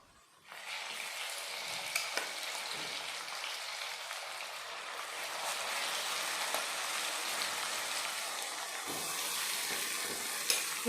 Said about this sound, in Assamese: ছাগলী মাংসটো কিন্তু ভাজিব লাগে দেই, বহুত দেৰি ভাজিব লাগে।